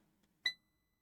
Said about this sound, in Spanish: Y hace un pitido